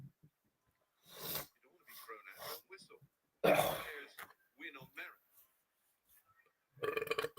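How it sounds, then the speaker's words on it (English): A person eating burps and coughs up close in a quiet room, several separate throaty bursts and throat clearings spread across the moment, with some speech in between. "I'm still eating, but also trying to cough up one thing that got stuck"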